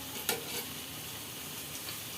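Food frying in a small, overfilled wok as it is stirred: a soft, steady sizzle close by with one brief scrape of the spatula early on, quiet and without talk.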